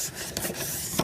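Scored paper being folded and creased for a gift bag gives a brief dry rubbing and rasping sound, close by, ending in a slightly sharper crinkle.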